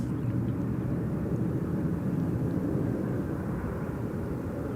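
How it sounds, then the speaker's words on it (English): Airbus A320neo departing London Gatwick Airport: a steady, broad jet roar that holds at an even, fairly loud level throughout, with no voices present. "we've got another departure lined up here."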